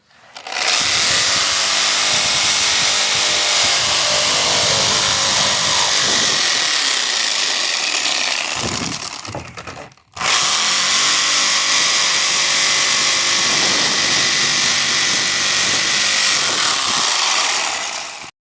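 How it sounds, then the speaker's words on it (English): A Sawzall reciprocating saw cuts through a car's interior panel in two long, loud, harsh buzzing runs, the second starting after a brief pause, with no talking. "use the Sawzall."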